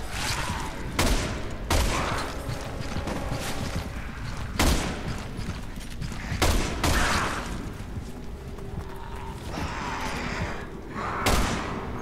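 Gunshots crack out in Resident Evil 6 during Leon's chapter, a series of sharp, widely spaced shots and heavy thuds recurring every second or two over a steady background of game sound.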